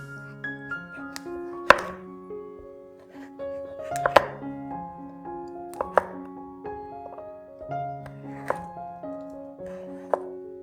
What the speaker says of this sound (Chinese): 将牛油果对半切，然后切成块状。